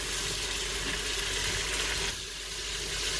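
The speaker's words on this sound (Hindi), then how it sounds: "ऑयल गर्म हो गया, अब इसमें ये पेस्ट शामिल कर देंगे, मिक्स कर लेंगे। जब तक इसकी खुशबू नहीं आएगी तब तक इसे सौटे कर लेंगे थोड़ा सा" Garlic, ginger and green chili paste sautés in hot oil for Peshawari namkeen gosht, a steady close sizzling hiss that carries through with a brief dip near the end, no voices.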